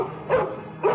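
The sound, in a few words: dog barking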